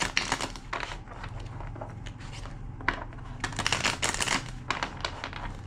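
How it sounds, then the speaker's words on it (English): Crisp riffling and flicking bursts of cards being shuffled, several quick clattering runs close by, with no voices. "Two more shuffles."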